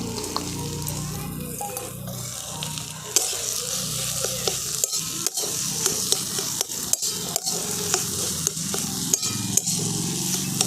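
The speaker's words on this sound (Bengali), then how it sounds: "এই সরষে কাঁচা লঙ্কা বাটাটা দিয়েও আমি এর সঙ্গে খুব ভালো করে মিশিয়ে নিচ্ছি" Pointed gourd with mustard and green chili paste and fried prawns being stirred in a pan, a steady sizzle under repeated sharp scrapes and knocks of the spatula against the pan, close and fairly loud.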